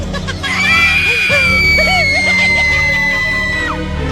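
A woman in an animated horror story lets out a long, loud, sustained scream that holds steady for several seconds before cutting off, with dramatic background music underneath.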